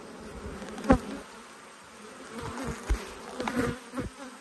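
Honeybees buzz steadily around an open hive during an autumn inspection, a continuous soft drone with a few louder passes near 1 and 3.5 seconds as bees fly close by.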